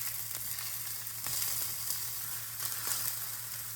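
Steady hot sizzling of spätzle frying in beef fat, continuous and close, with a few soft scrapes or stirs.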